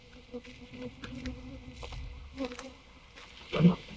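Honeybees buzz around a hive entrance after a nuc transfer into a full hive, a faint thin hum with individual bees passing close now and then, one louder fly-by near the end.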